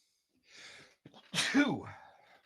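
A single human sneeze, preceded by a short sharp inhale, close and fairly loud in an otherwise quiet room, followed by a brief breathy trail-off.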